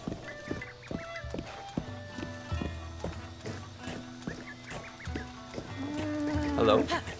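A horse in the video game Breath of the Wild trots with steady clip-clop hooves under game music, ending in a short burst of whinnying close up.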